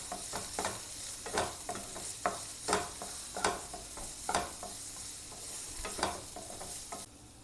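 Steamed carrots being lightly sautéed in a pan produce repeated scraping stirs over a soft background sizzle, each stroke sharp and close, then a quieter tail at the end.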